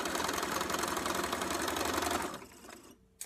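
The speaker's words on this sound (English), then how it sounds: "And then I'm going to sew down the other side." A sewing machine sews a quilting seam in one continuous close-up run of rapid needle chatter that slows and stops near the end, followed by a brief click.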